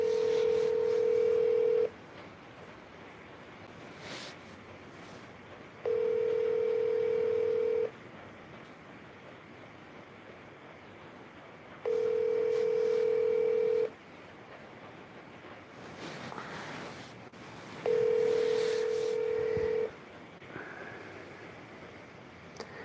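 An unanswered telephone call rings out as four long, evenly spaced ringback tones with quiet gaps between them, steady and clear over faint background noise and no speech.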